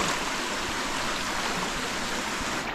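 Water rushes steadily through an irrigation channel in a rice field, a loud, even, broadband flow close by with no pauses and no talk.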